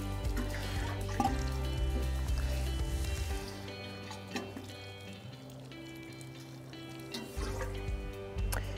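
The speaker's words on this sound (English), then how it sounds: "just simply take a water can and water down each one of your rows" Water pours from a watering can onto seeded rows of fall lettuce in a garden, a continuous splashing trickle with drips, set against a low droning background.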